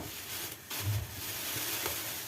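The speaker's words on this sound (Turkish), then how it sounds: "patlıcanlarımı kızartmaya başlayacağım" Eggplant slices frying in hot oil, a steady soft sizzle and crackle close by, fairly quiet, with no talk over it.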